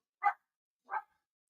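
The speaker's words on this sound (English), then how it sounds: "when you mention Brunbreaker, he starts barking." A dog gives two short, separate barks with a brief silence between them, moderately close and alone, with no talk over them.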